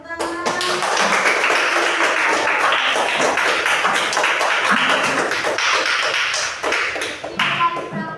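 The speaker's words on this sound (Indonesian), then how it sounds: "Kasih tepuk tangan." Group of children clapping hands together in a classroom lesson, a dense burst of applause that holds steady for several seconds before tapering off.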